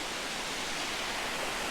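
Holden Clough waterfall heard from nearby, a steady broadband rush of falling water, constant and unbroken with no other sounds.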